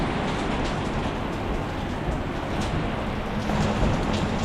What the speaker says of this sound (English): Yeah, we got quite a bit of rain right now.